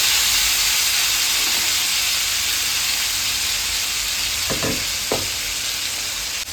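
Chila batter sizzling loudly in an oiled pan, a constant close frying hiss with a few scraping stirs near the end.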